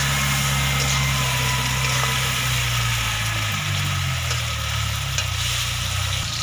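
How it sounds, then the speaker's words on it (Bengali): Spice paste with green chili paste frying with potatoes in a pan, a steady loud sizzle with a continuous hiss from start to finish, up close, no speech. "দিয়ে আবারও নাড়াচাড়া করে ভেজে নেব মশলাটাকে আলুটার সাথে"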